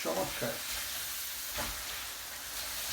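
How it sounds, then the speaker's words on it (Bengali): Salmon frying with spices and pepper is stirred in a pan in a village kitchen, giving a steady close sizzle with a few scraping stirs near the start and middle, no talking. "আমরা নাড়তে থাকি"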